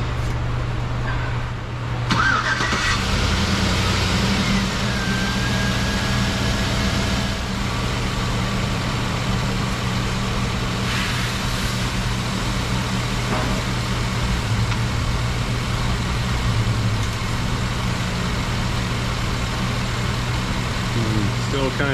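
A truck engine with a 4L60E transmission starts and settles into a steady, loud idle that runs continuously close by, with a person talking over it.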